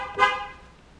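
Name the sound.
Land Rover car horn honking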